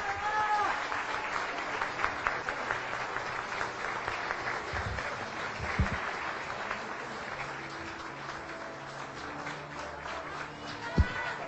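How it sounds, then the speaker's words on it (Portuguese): Audience applause at a conservative national symposium in Brazil, welcoming a federal deputy to a panel; a steady, dense crowd clapping fills the hall for over ten seconds, with a few louder claps and faint murmurs. "vamos recebê-la com uma salva de palmas"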